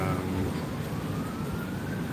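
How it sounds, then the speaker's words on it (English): Emergency sirens wail faintly in the distance during a storm in an Australian backyard, their thin sweeping tone lying under a steady wash of rain and ambient noise. "I can hear sirens going in the background."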